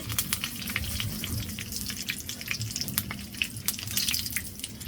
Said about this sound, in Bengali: এখন এই যে কড়ার মধ্যে এখন সর্ষের তেল দিয়ে দিব শুকনামরিচ তেজপাতা দিয়ে দিব